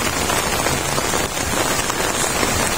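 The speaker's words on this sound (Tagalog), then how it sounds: "So yan, medyo malakas na ulan" Heavy typhoon rain pours steadily in Marikina City during Typhoon Enteng, a loud, dense, unbroken hiss of drops hitting surfaces with no voices present.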